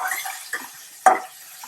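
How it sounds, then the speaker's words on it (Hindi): Sliced chicken sautéed in a pan for Indonesian fried rice, with a few scraping stirs and a sharp clatter of utensil against the pan over a soft background hiss. "इसको आप अच्छी तरह से सौटे करते जाइए ताकि लम्स ना आ जाए चिकन में"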